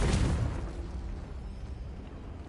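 In the video game Hogwarts Legacy, the explosive spell Confringo goes off as a loud, deep boom at the start, then rolls off into a decaying rumble with no voices.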